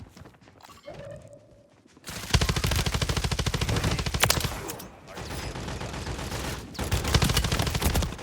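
Rapid automatic gunfire in Call of Duty Warzone, a Kastov LSW among the weapons, with dense sustained bursts that break off and resume, loud and close, after a quieter opening.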